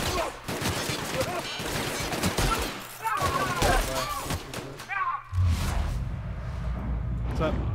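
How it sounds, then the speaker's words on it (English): Gunfire from combat in the sci-fi video game The Outer Worlds, dense bursts of shots and thuds running throughout, mixed with whooshing effects and voices calling out over the fight. "Returning fire! Bring him down!"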